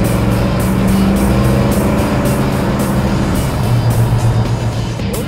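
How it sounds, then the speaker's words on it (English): Classic station wagon engine fitted with a newly installed Holley carburetor, accelerating on the road on a hot day; a loud, steady, close engine drone with road and wind roar continues throughout, without talk. "I'm just slowing down just so I can accelerate again."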